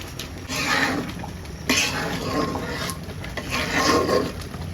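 Mixed spices being stirred into a pot of haleem in a home kitchen, with repeated scraping and clinking of a spoon against the pot, fairly close and steady, punctuated by a few sharper knocks.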